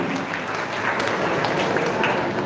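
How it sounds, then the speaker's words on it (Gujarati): An audience applauds a girl called up to the stage for a prize at a Gujarati mother-tongue festival, a steady dense wash of many hands clapping for the whole stretch, fairly loud and uniform. "આપણે તાળીઓના ગડગડાટથી એને વધાવીશું"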